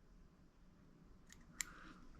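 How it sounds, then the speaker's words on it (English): Dull scissors snip through split animal fur while tying a jig leech fly, one or two faint, crisp close cuts over quiet room hiss. "Cut it with the dull scissors right there."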